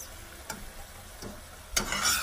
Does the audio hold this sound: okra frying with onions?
yes